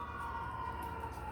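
A siren wails steadily in the distance, a sustained tone holding under a low background rumble.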